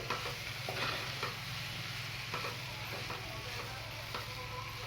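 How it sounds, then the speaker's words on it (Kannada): Spice powders, including groundnut powder, being stirred and fried in a pan for a sprouted moth bean stir-fry, a quiet steady sizzle broken by soft, regular scraping strokes of the spoon. "ಚೆನ್ನಾಗಿ ಮಿಕ್ಸ್ ಮಾಡಿಕೊಂಡು ಫ್ರೈ ಮಾಡ್ಕೊಳ್ಳಿ."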